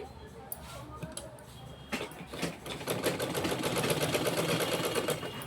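A sewing machine stitches a blouse sleeve up close, starting with a few isolated clicks, then running into a fast, steady mechanical rattle that builds and holds; a voice is faintly present.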